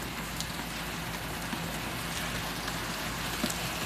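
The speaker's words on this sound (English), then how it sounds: "It's raining." Steady rainfall patters down continuously, a dense hiss of drops with occasional closer splats, no voices present.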